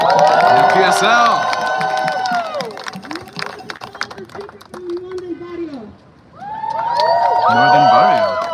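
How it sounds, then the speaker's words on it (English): A rally crowd in Los Angeles cheers, whoops and claps loudly, with some shouting, dies down briefly, then swells again with cheering and applause. "can we get another round of applause?"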